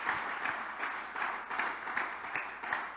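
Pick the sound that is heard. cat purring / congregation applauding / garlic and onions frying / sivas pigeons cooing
congregation applauding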